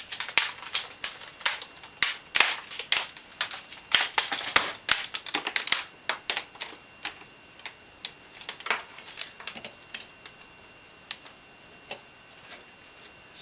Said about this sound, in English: We have the original BEON PC keyboard that came with the computer.